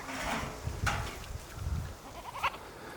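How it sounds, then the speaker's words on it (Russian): Goats rummaging in a cart at a remote rural homestead give a few short bleats, fairly quiet and at a middle distance, with soft ambient rustling between the calls. "Козы там в телеге копаются уже."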